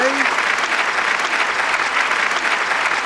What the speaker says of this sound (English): Let me give you a round of applause for that